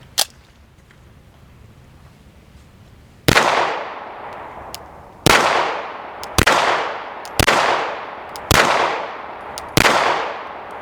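Six sharp pistol shots from a CZ P01 compact handgun at an outdoor range target, loud and close with ringing decay, fired at an uneven pace of roughly one per second after a quiet pause.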